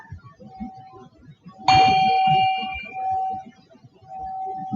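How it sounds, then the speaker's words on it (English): A single bell struck at the close of a yoga relaxation rings out clearly and decays with a sustained tone over a soft background, while an instructor speaks quietly over it. "hear the sound of the bell calling you back."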